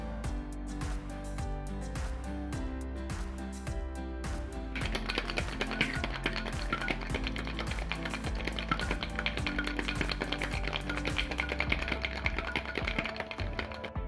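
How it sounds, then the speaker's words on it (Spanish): Ice rattles hard and fast inside a cocktail shaker holding a gin drink with honey, beetroot and lime syrup, first a light clink, then a dense continuous rattle of rapid close shaking. "Agregamos un hielo y vamos a proceder a agitar."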